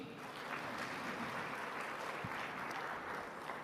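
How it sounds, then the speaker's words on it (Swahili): A large audience applauds at the launch of the Africa Food Systems Forum, with continuous dense clapping at an even level from start to finish. "Naomba tuwapigie makofi."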